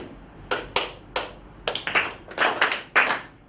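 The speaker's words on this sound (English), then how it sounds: "I'm going to clap a pattern right now" Hands clap out a rhythmic pattern, about a dozen sharp, close claps in uneven groups with short pauses between them, alone in a quiet room.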